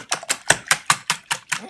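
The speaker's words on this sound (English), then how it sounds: "I'm whisking the eggs" A whisk beats eggs in a bowl for keto flatbread batter, making quick regular metallic taps and swishes, about five strokes per second, close and fairly loud with no talking.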